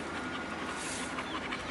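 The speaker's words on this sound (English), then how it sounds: "That's my dog." A pet dog pants steadily and fairly close, a soft rapid breathing rhythm running through the moment with no talking over it.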